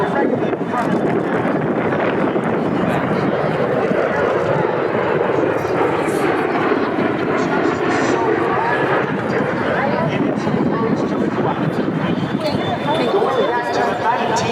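A V-22 Osprey tiltrotor hovers at an airshow, its broad, loud rotor and engine roar steady and unbroken, with an announcer's voice over the public address system throughout.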